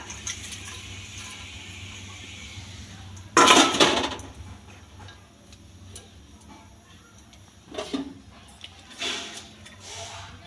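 A lid clatters down onto a metal pot of cauliflower stalks set to boil in water, a sharp metallic clink standing out from a quiet kitchen hum, followed by a couple of softer clinks.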